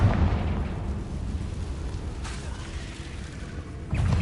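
Confringo blasting spell in Hogwarts Legacy, heard as heavy rumbling booms, a loud burst at the start and another near the end, with a dull roar between.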